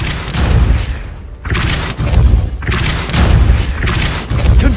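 Depulso spell impacts in Hogwarts Legacy, a series of loud booming thuds and crashing blasts in rapid succession with brief dips between bursts.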